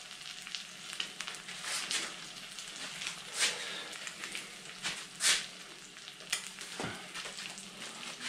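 Eggs frying on a small compact camping stove with good heat, a steady crackling sizzle with brief louder pops and spits, close by and without talk.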